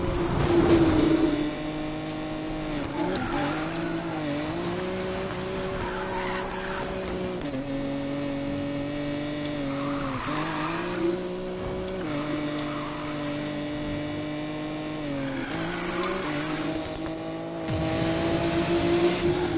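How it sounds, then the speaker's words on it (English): A Nissan Skyline races in Need for Speed Payback, its engine note rising and falling steadily through gear changes with bursts of tire squeal, loud and continuous throughout. "Eddie's Skyline is tearing it up."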